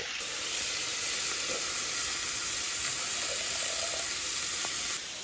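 Beef stock poured into a pan of reducing wine for a filet mignon sauce, giving a steady loud sizzle and bubbling that holds evenly, then cuts off abruptly near the end.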